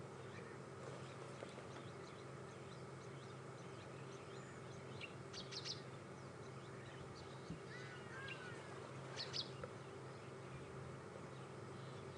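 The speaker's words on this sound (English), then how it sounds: "So welcome to the European bee eater." European bee-eaters calling during a summer evening safari drive in a South African game reserve: a few faint, brief trilling calls at a distance over steady insect and wildlife ambience, with no talk.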